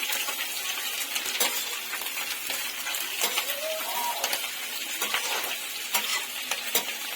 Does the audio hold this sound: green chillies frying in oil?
yes